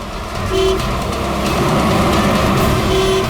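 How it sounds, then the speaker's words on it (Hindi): Short vehicle horn toots sound twice over a loud, rumbling traffic drone, the honks brief and steady-pitched. "अरे क्यों हॉर्न मार रहा है?"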